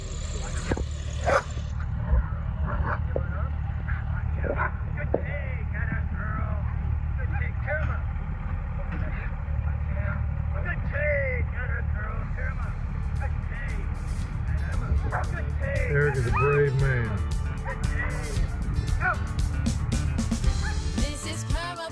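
Dogs on a small homestead farm barking in short yips now and then, fairly distant, under near-constant talk with a low engine or vehicle rumble in the background.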